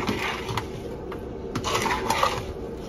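A spoon tossing curried tofu pieces in a bowl, with soft scraping and a few light clinks against the bowl, close and brief.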